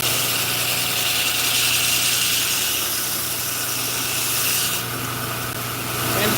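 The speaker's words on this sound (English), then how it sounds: "I'm going to be using the wheel to contour." A sanding or grinding wheel contours a bowie knife handle, giving a steady loud whirring drone with rubbing grind that runs throughout and shifts brighter near the end, with no talk.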